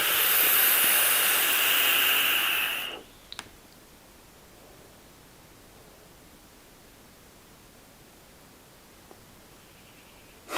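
A draw through a Tauren RDA with broad airflow and a 3mm inner diameter flat wire coil gives a loud, steady airy hiss for about three seconds, then stops abruptly, leaving near silence with a faint click.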